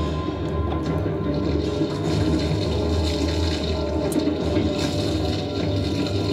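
Gasoline pouring in a Rambo movie scene, a steady continuous splashing liquid stream running loud and close throughout, with no voices.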